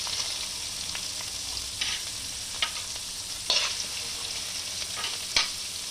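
Chopped onion frying in a pan for a traditional besan pithla, a steady sizzle with occasional stirring scrapes and clicks, close and alone with no voices.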